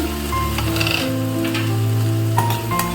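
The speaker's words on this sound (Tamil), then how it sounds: "ஒரு மூணு நிமிஷம் ஆயிடுச்சு நல்லா வதங்கிட்டு இருக்கு பாருங்க" Tomatoes for a spicy tomato chutney sauté in a pan, giving a steady close sizzle and crackle of frying that runs without a break.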